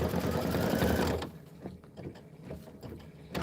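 A sewing machine runs in a steady, dense whir during quilting, then stops, leaving a few scattered clicks and small mechanical taps close by. No voices.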